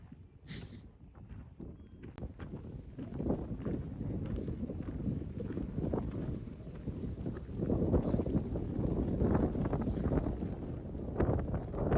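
Strong wind in the Spiti Valley mountains buffets the microphone in heavy, rumbling gusts that swell and ease throughout, with no one speaking.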